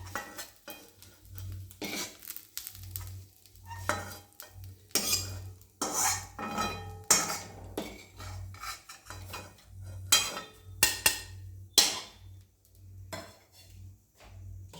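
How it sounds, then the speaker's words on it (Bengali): Fried neem leaves are lifted out of a pan with a metal utensil, making irregular scraping and clinking strokes against the pan over a faint low hum. "নিমটা আমার ভাজা হয়ে গেছে, এবার আমি তুলে নিচ্ছি।"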